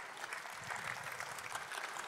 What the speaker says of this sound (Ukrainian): Воздай Господу оплески за свого сусіда.